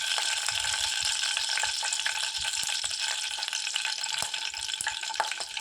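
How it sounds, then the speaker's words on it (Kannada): Hot oil heated in a pan for cooking zunka sputters and crackles, a close, moderately loud hiss scattered with sharp irregular pops, and no voices. "ಈಗ ಎಣ್ಣೆ ಮಸ್ತ್ ಕಾದೈತೆ ರೀ."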